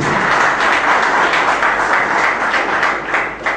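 Audience applause during a speech at a memorial gathering, a loud, sustained crowd of hands clapping up close, evenly dense and fading slightly at the end.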